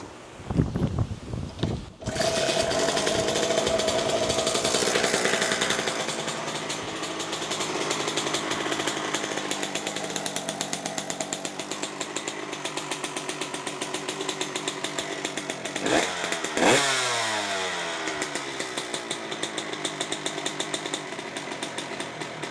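A Honda CR125R two-stroke motorcycle engine runs loud and close, a raspy buzzing idle that holds steady for most of the stretch, with a couple of sharp revs near the end and no talking.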